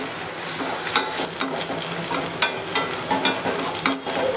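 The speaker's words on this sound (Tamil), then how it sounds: "இப்போ அந்த கருவேப்பிலை போடலாம்." Chopped onions and curry leaves sizzle steadily in a frying pan while being stirred, a close, continuous crackling hiss with small scraping bursts and no talk.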